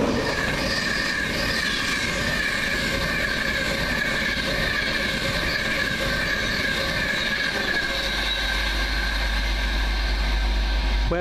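A train rumbles past at close range through Berwick-upon-Tweed station, steady and loud, with metallic wheel squeal and rhythmic clatter of carriages running over the rails.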